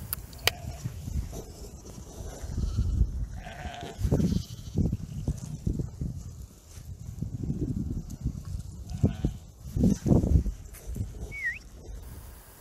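Ewes and lambs bleat repeatedly on a Wicklow sheep farm, a mix of deep ewe calls and higher lamb cries overlapping at moderate distance against a soft outdoor background.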